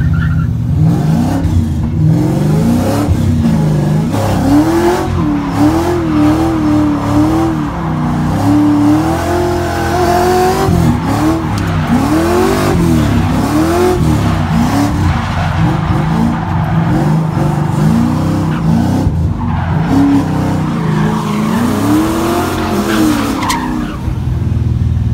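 A Mazda RX-8 drifts on a track, its engine revving up and down continuously under loud, sustained tire squeal and skidding, close and dense for the whole stretch.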